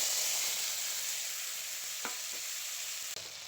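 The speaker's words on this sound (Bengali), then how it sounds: "এরপর দিয়ে দিচ্ছি আমি টমেটো কুচিগুলো ফোড়নের মধ্যে" Chopped tomatoes hit hot oil in a kadai already tempered with black cumin and a whole dried red chilli, giving a loud, steady close-up sizzle broken by a couple of soft stirring knocks.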